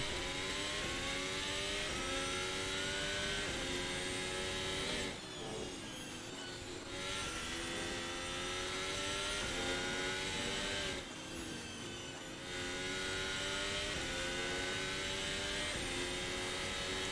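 A race car on a timed lap at the Red Bull Ring screams at high revs, its engine note climbing through gears with two brief drops at upshifts or braking, loud and steady for the whole stretch.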